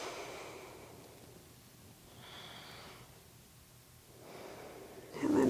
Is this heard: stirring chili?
no